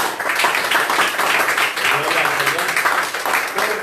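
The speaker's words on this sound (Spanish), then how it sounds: "Pues vamos a darle un fuerte aplauso entonces." Congregation applause during a church sermon, a dense, steady wash of clapping across the whole stretch, with voices mixed in among the crowd.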